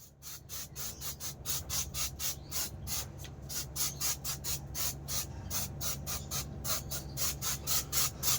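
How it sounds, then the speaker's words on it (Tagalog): Repeated short bursts from a spray can, roughly two dozen quick hissing puffs in a steady rhythm, close and fairly loud over a low background hum, with no talking. "Spray lang tayo at masyadong spray lang muna kami ha."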